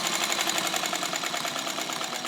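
A vintage Kenmore Rotary 117.552 sewing machine, made by White, stitches through heavy material with a fast, steady mechanical whir and rapid needle clatter, loud and close, with no pauses.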